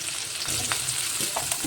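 Onion pieces hiss in hot oil as the base for a bendi (okra) masala, a steady close sizzle with a few soft stirring knocks, no voices.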